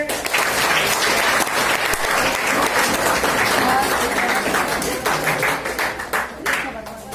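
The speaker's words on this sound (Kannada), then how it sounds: "ಚಪ್ಪಾಳೆ ಜೋರಾಗಿ" Loud, sustained clapping from an audience fills the room at a World Hearing Day event, a dense continuous applause that tapers slightly near the end, with voices mixed in.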